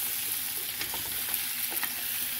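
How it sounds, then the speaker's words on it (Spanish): Potatoes frying in oil and butter with onion hiss in a steady, loud sizzle while a utensil stirs them, giving soft scraping and bubbling pops throughout. "Ahí es cuando vamos a agregar todas nuestras papas. Y vamos a revolver un poquito"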